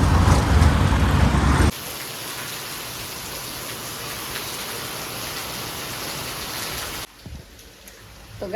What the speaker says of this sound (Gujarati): કેટલું સરસ પહેલો વહેલો વરસાદ આવ્યો છે અમારે